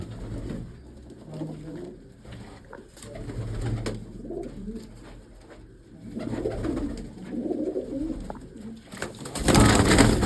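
Pigeons coo softly and repeatedly, with a burst of loud wing flapping near the end.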